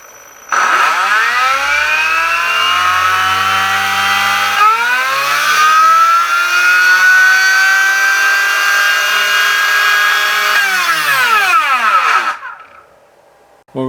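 An RC electric motor driven by a Tekin ESC spins up on a Minipro dyno, a loud whining tone sweeping upward, holding a high electric whir for about eleven seconds, then winding down.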